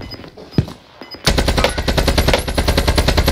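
Rapid gunfire in a tactical shooter game: a couple of isolated cracks followed by a sustained, loud burst of closely spaced shots rattling on with steady rhythm.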